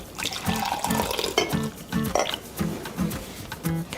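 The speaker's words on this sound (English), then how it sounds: "I pour it into a cup" Turmeric tea poured into a cup: a close, trickling, splashing pour in short repeated surges over a few seconds.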